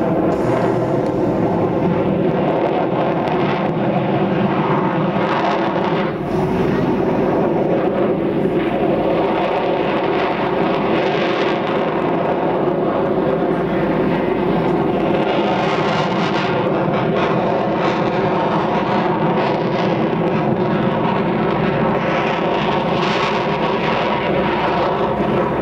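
A Yak 110 aerobatic airplane with jet engines and propellers performing at an airshow in Oregon, a loud continuous roar of jet thrust and propeller drone, steady and close throughout with wind buffeting, no talk.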